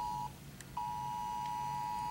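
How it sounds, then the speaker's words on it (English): A phone's emergency alert for a flash flood warning during a tornado warning in Baltimore, a loud, steady electronic tone that cuts out briefly, then resumes and holds without talk. "It's my phone."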